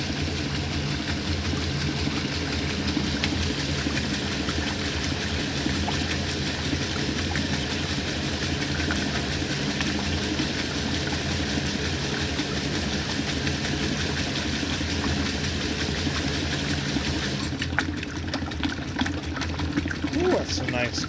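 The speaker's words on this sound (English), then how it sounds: "You guys see how clean that rinse water is for the tide and how full this load is, especially for this machine." A 1960 Frigidaire Custom Imperial Multimatic washing machine runs its rinse with a steady mechanical hum and continuous sloshing water throughout, fairly close and unchanging.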